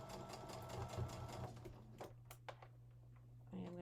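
A sewing machine runs close by, stitching lace onto a denim shirt in a steady rapid whir that slows and stops partway, followed by a few light clicks and taps.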